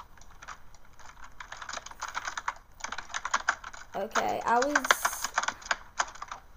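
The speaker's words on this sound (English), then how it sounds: "I was spamming my keyboard for some reason" Rapid clattering keystrokes on a computer keyboard pour out in dense, uneven bursts at close range, with a brief spoken word and a short vocal sound mixed in partway through.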